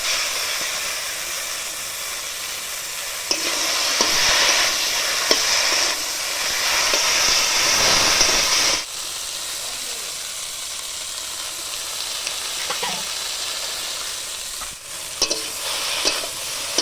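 Taro stolons sautéed with ground chili and cumin paste for a snakehead fish curry, a steady close sizzle with stirring scrapes, swelling louder in the middle then easing back to a softer frying hiss.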